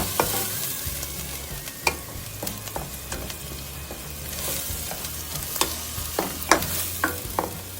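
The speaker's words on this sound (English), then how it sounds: "I'm going to add the ginger, garlic and the chili paste. And we'll saute that for a while." Ginger, garlic and chili paste sauteing in a pan for Indian navratan curry, a steady low sizzle with scattered sharp clinks and scrapes of a stirring utensil, close and moderately loud, no talk.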